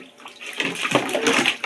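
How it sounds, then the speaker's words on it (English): Tap water pours steadily into a bathtub at bath time, a close, continuous splashing rush. "No, leave the water on."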